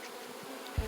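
Bees buzz in a steady, faint drone around a wild beehive comb as they are brushed off it, with a brief low thump near the end.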